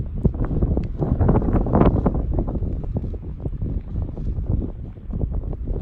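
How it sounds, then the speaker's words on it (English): Strong gusting wind in Longyearbyen, the Arctic town, driving snow through the air; rough, buffeting wind noise on the microphone, loud and steady with uneven surges and no talking. "It's suddenly got very windy, and I don't know if you can see the snow flying through the air there."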